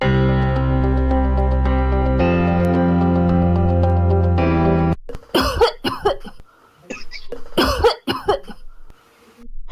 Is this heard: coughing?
yes